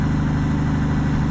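A truck engine in Alaskan Road Truckers held in seventh gear, a loud, steady low drone with a pulsing rumble that stays constant throughout, with no talking.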